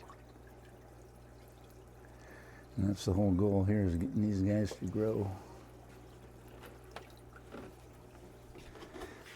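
Water pours steadily into a tropical fish aquarium during a water change, a continuous wash under the whole stretch, while someone talks over it in the middle.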